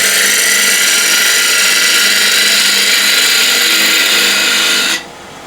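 A wood lathe cutting with a spindle gouge and a 1/2 inch ball gouge gives a loud, steady, high-pitched scraping whir for about five seconds before it abruptly drops away.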